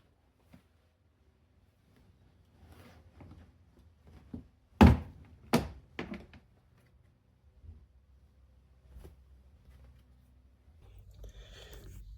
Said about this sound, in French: Déclipser la partie inférieure du tableau de bord qui cache l'accès au logement du filtre.